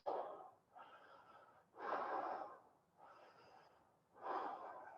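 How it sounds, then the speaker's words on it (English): Slow, deep breaths during a guided breathing exercise, about three long airy inhale-exhale cycles close to the mic, each swelling and fading with short quiet gaps. "2 more breaths."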